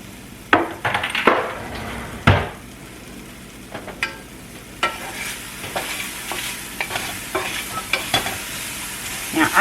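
Beef stir fry sizzling in a skillet, with a steady frying hiss and repeated scraping, stirring knocks of a utensil against the pan, close and fairly loud.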